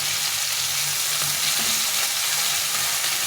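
Fresh fish frying slowly in a pan, a dense, even hiss of hot oil that holds steady and close for a few seconds, with no voices.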